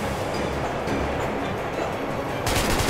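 A train rolls along rails in the post-apocalyptic video game Metro: Last Light Redux as a loud, continuous rumbling roar with a rattling, clattering texture throughout.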